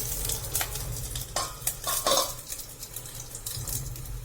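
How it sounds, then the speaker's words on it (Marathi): A lid is set over stuffed capsicums filled with potato bhaji in a pan, giving light metallic clinks and scrapes over a faint low sizzle. The sounds are close and short, with no voices. "आता आपण त्यांना झाकून ठेवणार आहे"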